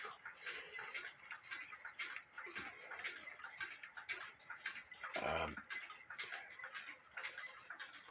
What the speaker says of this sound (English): Here's my Poppo Owl movable eye clock.